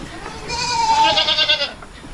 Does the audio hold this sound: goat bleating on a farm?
yes